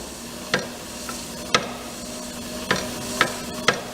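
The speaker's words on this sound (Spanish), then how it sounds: "Oigan cómo el golpeteo cada vez es más fuerte." A vibrating mass, shaken through its base, knocks against its limits: sharp metallic knocks at irregular intervals, about five in a few seconds, over a steady low hum, each strike crisp and fairly close.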